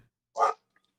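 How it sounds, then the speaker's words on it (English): A big dog gives a single short bark indoors, loud and close, with silence around it. "You hear my big doggy?"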